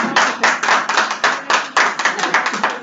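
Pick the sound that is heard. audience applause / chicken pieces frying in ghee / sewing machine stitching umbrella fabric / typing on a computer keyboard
audience applause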